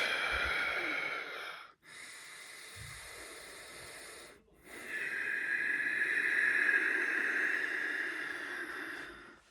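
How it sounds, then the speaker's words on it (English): Slow deep breathing close to the ear: a long airy inhale, then a short pause, another breath, and a longer, stronger hissing exhale. "Take a deep breath."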